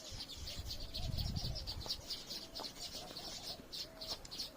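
Pigeons and small birds feeding on scattered grain outdoors give soft coos and a steady patter of high chirps, with a brief low flutter of wings, all fairly faint and with no talk.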